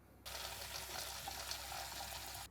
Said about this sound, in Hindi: अब पानी भरना है इसमें